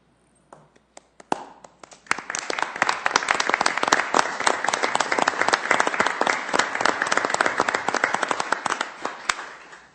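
At a Sioux Falls city council meeting, a few isolated claps grow into sustained applause from the audience, dense and close, continuing for about eight seconds.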